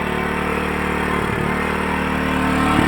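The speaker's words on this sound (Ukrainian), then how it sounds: "Ось такий агрегатик працює тихенько, 64 децибели." A NIG GNR 3050 inverter generator runs steadily at a fairly quiet, even hum with a low mechanical drone, no revving or speech, holding constant through the whole stretch.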